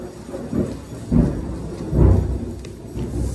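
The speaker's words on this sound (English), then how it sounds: "we're doing this during a thunderstorm" Thunder during a thunderstorm, heard as low rolling rumbles that swell and fade three or four times, fairly loud with no talk over them.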